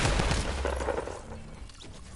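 Rapid gunfire in the Fortnite battle royale game, a loud burst of several quick shots close together that fades within about two seconds.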